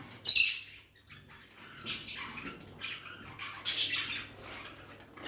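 A peacock gives a few loud, harsh calls at close range, with quiet gaps between the bursts.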